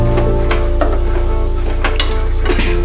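Food is reheated in a pan on a kitchen stove, a steady close sizzle with occasional stirring scrapes and light clinks of utensil against metal, no talking.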